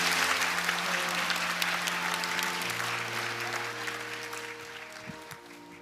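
Congregation applauding during a Sunday church service to bless a newborn, a steady broad clapping wash that slowly fades, with organ or held tones sustained underneath.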